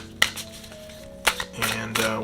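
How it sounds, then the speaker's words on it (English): Tarot cards are shuffled by hand, giving a few crisp, close riffling and snapping bursts separated by short pauses, with a low steady hum underneath. "I'm going to go ahead and shuffle."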